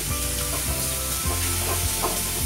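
Sambar masala with coriander powder, salt and turmeric sizzles in a hot pan, a loud, steady frying hiss broken by rhythmic scraping strokes as the spices are stirred.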